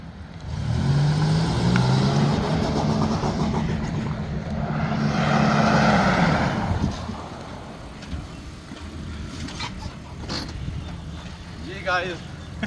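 A 2003–2006 Mitsubishi Pajero GDi with a 3.4-litre V6 petrol engine on a test drive gives a steady, fairly loud engine and road drone that rises and then eases off. Someone talks over it.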